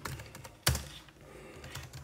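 Fingers tap on a computer keyboard while coding: scattered, light keystrokes with one sharp, louder clack standing out, close-up in a quiet room and no speech.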